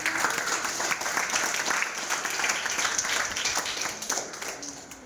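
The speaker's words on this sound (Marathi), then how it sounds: "त्यांच्यासाठी एकदा सगळ्यांनी टाळ्या वाजल्या पाहिजे" School students applaud together at an assembly, a dense, continuous wash of clapping from a crowd that holds steady for about five seconds with faint voices beneath.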